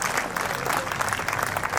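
Audience at a Khokhar community gathering applauding, a dense, even wash of many hands clapping at close range with no pauses.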